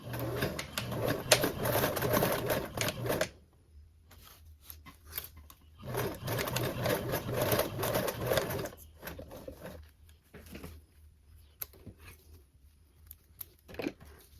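A sewing machine stitches a gusset zipper seam in two long bursts of rapid, steady whirring, each a few seconds long, with quiet pauses and light handling clicks between and after them.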